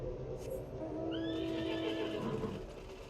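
A horse mount in a video game whinnies once, a clear rising and falling neigh over a low game background, moderately close, with no speech.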